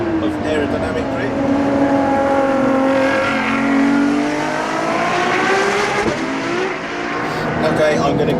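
A Ferrari LaFerrari, the 950bhp V12 hybrid from Maranello, accelerates hard as engine pitch climbs through the gears in rising, sweeping tones, loud from inside the cabin with someone talking over it.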